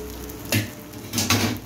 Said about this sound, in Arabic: هنحمرها ونحط عليها الرز بتاعنا ده احنا حمرنا الشعريه اهو